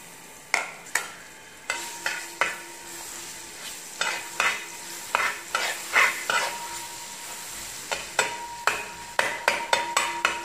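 Crushed ginger and garlic fry in hot coconut oil, a constant sizzle broken by a string of sharp, regular spoon clinks and scrapes against the pan, close and alone.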